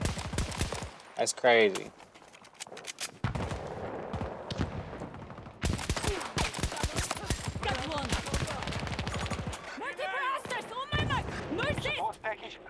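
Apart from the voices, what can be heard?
gunfire in a video game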